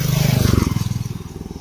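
A motorbike from Assam passes along a village lane in Ziro Valley, its engine throbbing in a steady close pulse that fades slightly as it moves away.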